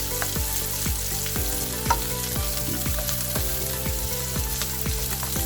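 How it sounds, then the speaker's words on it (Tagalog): Garlic sautés in hot oil for a Filipino pansit bihon guisado noodle stir-fry, a steady loud sizzle with repeated sharp crackles and pops spread evenly throughout, with no talking. "Add garlic, saute until light golden brown."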